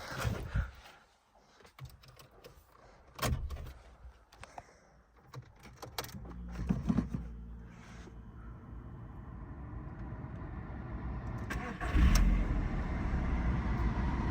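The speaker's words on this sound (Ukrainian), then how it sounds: "Покажу вам, як заводиться." A 2003 Volkswagen Golf 4 with a 1.6 petrol engine: key and cabin clicks and rustling, then the engine cranks and catches around twelve seconds and settles into a steady, close idle.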